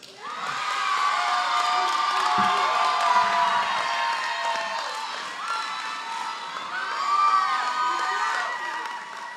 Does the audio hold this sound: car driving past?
no